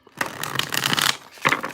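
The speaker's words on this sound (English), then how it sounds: "2 more shuffles here" Tarot cards are riffled and shuffled up close in two brisk bursts, a papery flutter with a brief pause between them.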